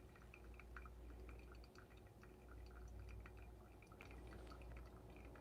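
Hot water drips slowly through a pour-over coffee dripper as faint, scattered small drops. The drips sit over a low, quiet background hum.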